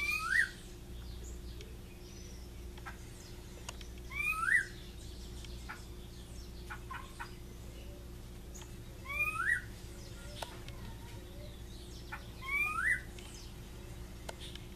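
A rufous-bellied thrush about six metres away gives four short, spaced song phrases, each a quick swooping note, heard faintly over a low steady hum in a quiet outdoor setting.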